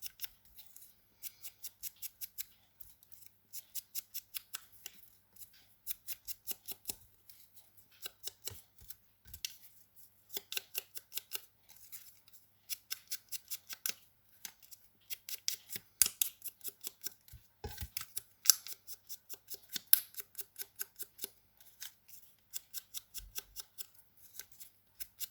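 Scissors snipping along the edges of paper for a vintage ATC card, sharp, close, crisp cuts in quick bursts of rhythmic snips separated by short pauses, fairly quiet and steady.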